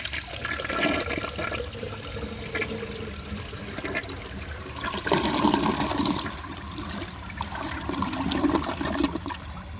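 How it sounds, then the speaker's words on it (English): A 1973 Eljer Hi-San low tank toilet flushes with a strong rushing swirl of water that surges and drains over several seconds, then refills with trickling, heard close and alone. "it's also a very high-performing toilet"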